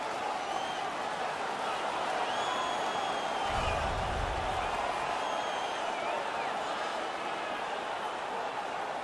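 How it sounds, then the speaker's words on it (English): Hockey arena crowd at a Dallas playoff game roaring after a fight, a loud, continuous wall of cheering with a swell in the middle and whistles and shouts cutting through. "The crowd is so pumped right now."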